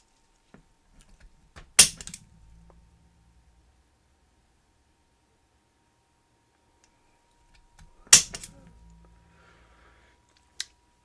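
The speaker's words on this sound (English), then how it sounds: "And we'll use our center punch." A center punch taps into the body of a 1:32 scale diecast Chevrolet Monte Carlo model during a build. Two sharp, close metallic strikes stand out in a quiet room, followed by a smaller click near the end.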